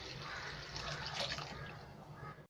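Water from a glass being poured into a cooking pot of soaked moong dal, a steady continuous splashing and gurgling stream lasting a couple of seconds, close and fairly loud, with no voices.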